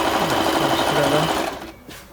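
A Bernette Sew Go 5 sewing machine stitches a 2 mm zigzag with a fast, steady mechanical whirring up close, then slows and stops near the end.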